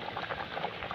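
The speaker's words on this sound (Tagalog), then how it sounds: "kumukulo na po guys ang ating papaya" Papaya boils in a pot of water, a dense, steady bubbling and popping that runs continuously at close range with no voices over it.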